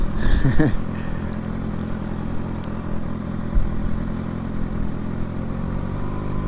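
Motorcycle riding along Route 66 in Amarillo, Texas, its mid-pitched engine droning steadily with wind rush and a brief rattling burst at the start, while someone talks over it.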